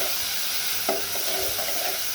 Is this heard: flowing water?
no